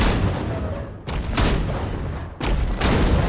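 Gunfire in the video game Expedition 33: loud, close bursts of shots in three dense waves separated by brief gaps, with no talk over them.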